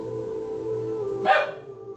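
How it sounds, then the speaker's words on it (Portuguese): A small dog gives a single sharp, close bark over a steady low background hum. "Minha cachorrinha aqui, ela late mesmo."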